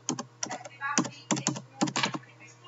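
A password is typed on a computer keyboard in quick clusters of close, crisp key clicks separated by short pauses, with a low steady hum underneath.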